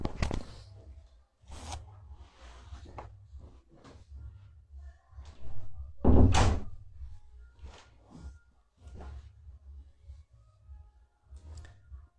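An indoor door is pushed shut, giving one loud thud-like bang partway through, surrounded by softer rustling, shuffling and small clicks with no talking.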